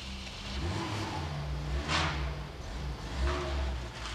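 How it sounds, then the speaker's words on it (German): A car pulling away at moderate distance: a mid-pitched engine revs up in a couple of rising surges and then settles into a steady hum as it drives off. There is no speech. "Da fährt jemand weg."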